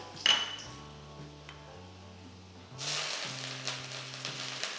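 A sliced dried red chilli goes into hot oil for a honey glazed Schezwan chicken, giving a sudden bright sizzle with a sharp clink at the start, then a steadier, louder frying hiss building in the second half, close by and without talk.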